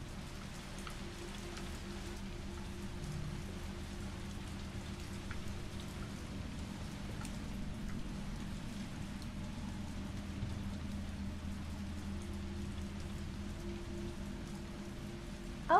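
Steady, heavy rain pours continuously in the Resident Evil 3 video game, a dense even hiss of falling water with low rumbling beneath and no voices.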